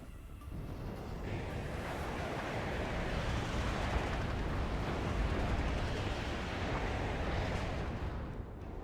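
Artillery and Mi-24 helicopter fire support in the WARNO strategy game comes through as a dense, continuous roar of overlapping explosions and gunfire, loud and steady throughout with no pauses.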